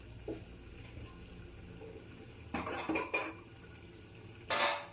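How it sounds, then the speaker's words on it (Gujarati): A metal griddle (tava) is set down on a gas stove in a home kitchen with a couple of clanking metallic knocks over low background hum, fairly quiet, with no voices. "તો ગેસ ચાલુ કરી દઈએ તો મૂકી દઈએ તવી"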